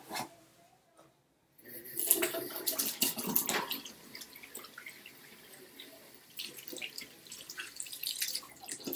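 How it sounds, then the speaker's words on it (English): Hands are washed under a running tap in a patient's room, with water splashing and dripping close by and starting after a brief near-silence, then continuing steadily. "then I will wash my hands in front of the patient"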